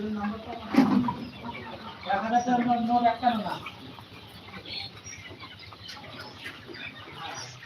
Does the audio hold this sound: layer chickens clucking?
yes